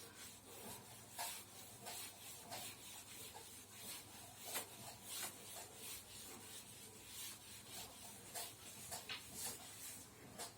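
A classroom board being rubbed clean, a faint repeated swishing and scrubbing in short rhythmic strokes, heard from some distance.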